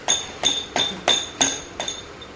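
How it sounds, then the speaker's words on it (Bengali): A child playing with a small prayer bell from a home shrine room: six evenly spaced, bright metallic dings, each with a short ringing decay, close and clear, with no talking. "ঠাকুরঘরের ঘন্টি নিয়ে তার এখন খেলা চাই"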